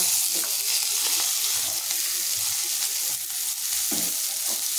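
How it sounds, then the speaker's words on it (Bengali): Onions and green chillies fry with vegetables for homemade fried rice, a loud, close, continuous sizzle with stirring scrapes in the pan and no talking. "এরপর এখানে আমি দিয়ে দেব পেঁয়াজ এবং কাঁচা লঙ্কা।"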